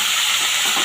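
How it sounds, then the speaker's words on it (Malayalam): Tomatoes dropped into a hot pan set off a loud, continuous sizzle, a dense hiss held close and steady for under a second with no voices. "തക്കാളി ഇട്ട് കൊടുക്കട്ടെ."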